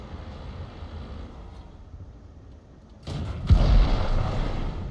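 A World of Tanks tank gun fires a shell partway through: a single deep, loud boom that breaks a quiet stretch of low rumble and lingers with a rolling tail.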